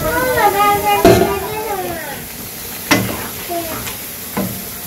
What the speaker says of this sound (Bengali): এখন ভেজে রাখা মাছগুলো দিয়ে দিই।